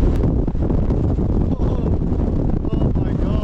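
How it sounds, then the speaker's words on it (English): Strong gusts on the summit of Branstree, a fell on a hike in the Lake District, buffet the microphone in a loud, close, roaring rumble that surges and dips unevenly throughout. "So windy."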